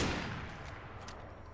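Rapid gunfire from the video game Fallout: London, a dense loud burst of shots at the start that trails into a steady rumbling clatter, with no voices over it.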